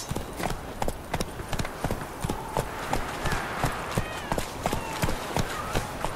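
Roach, Geralt's horse in The Witcher 3: Wild Hunt, gallops with a steady, rapid clatter of hooves close by, the rhythmic beats continuing throughout with no talk over them.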